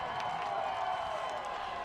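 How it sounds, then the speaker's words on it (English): Football crowd at a varsity high school semifinal game against Benton, a steady wash of cheering and clapping roused by the coach, dense and continuous with no single standout voice. "Coach Young getting the crowd up."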